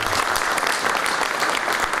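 A dense wash of audience applause, steady and loud across the whole moment, with many hands clapping together and no break.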